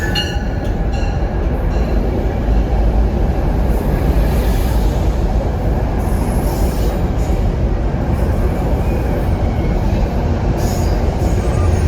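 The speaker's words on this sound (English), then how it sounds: "this is train 870 from Poughkeepsie to Grand Central at 432" A commuter train running from Poughkeepsie to Grand Central rushes past close by, a loud, steady rumble of wheels and cars with high metallic squeals, continuous throughout.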